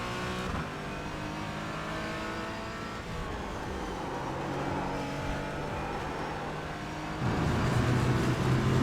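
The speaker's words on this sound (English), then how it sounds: "I really like that rumble strip sound" A race car in iRacing runs over a rumble strip, with a loud continuous engine drone and a rough buzzing rattle from the tires. A higher, harsher texture comes in near the end.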